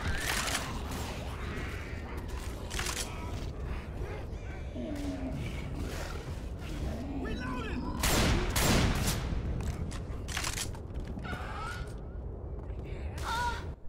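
Friendly fire in Left 4 Dead 2 co-op, with loud bursts of gunshots scattered across the stretch and a heavier volley near the end, mixed with players' voices and game noise.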